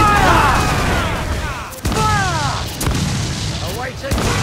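Cannon broadside from a sailing warship in the Assassin's Creed Black Flag video game, during a naval battle against a British man-o'-war: heavy booming volleys with rumbling blasts and crashes, loud and close, several sharp impacts spread through the passage.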